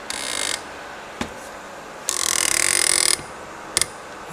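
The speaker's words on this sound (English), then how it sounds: "you're gonna come and torque it to 11 foot-pounds" Ratcheting clicks of a wrench tightening bolts in a crisscross pattern on an ATV, two longer bursts of rapid clicking separated by short single clicks, close and clear.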